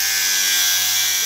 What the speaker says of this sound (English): I'm going to have to cut these fittings off here with an angle grinder.